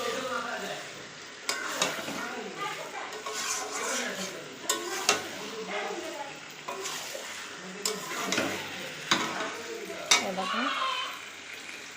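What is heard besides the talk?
chicken cooking and being stirred in a pan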